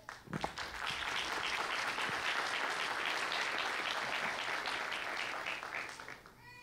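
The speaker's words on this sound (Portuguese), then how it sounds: "Então, vamos todo mundo bater palmas?" Church congregation clapping together, a steady burst of applause that builds quickly, holds evenly at moderate distance, then fades out at the end.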